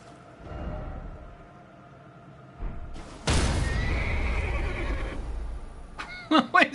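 Summoned horse in a video game gives a loud neigh, with a rising whinny after a whooshing burst, followed by a few quick hoof clops near the end; no speech.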